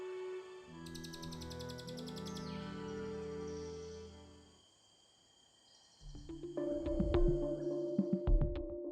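Cililin bird song from the forest: sharp, varied tonal phrases and rapid high trills delivered close and loud, with a brief pause midway before a second burst of piercing notes.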